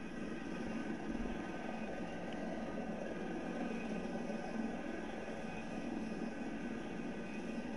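Aircraft engine drone in the video game Battlefield 4 on PS4, a steady low roar that holds unchanged the whole time, heard alone without talk.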